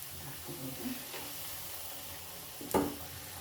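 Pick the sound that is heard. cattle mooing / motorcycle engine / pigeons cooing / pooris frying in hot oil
pooris frying in hot oil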